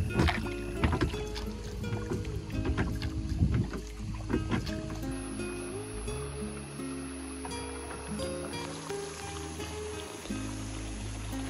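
Boat moving across a forest reservoir, with steady engine hum and water wash under breezy wind noise, some knocks and rattles early on, then a more even drone, no speech.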